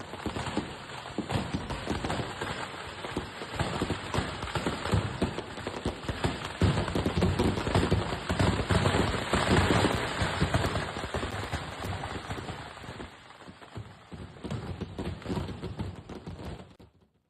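Firecrackers burst in dense rapid volleys at a fireworks display during a church procession, a continuous crackling barrage of sharp pops that swells, thins out near the end, then stops.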